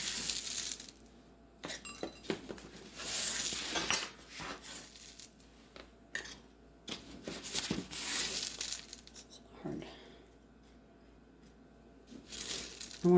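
Oats, butter and cinnamon for a streusel topping are stirred together in a bowl, giving soft scraping, clinks of a utensil and crumbly rustles in irregular bursts with quiet gaps, close by and without talk.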